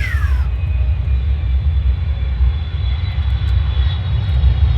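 Airplane landing sound effect opens with a brief descending whine, then a loud, steady low engine rumble drones on alone for several seconds.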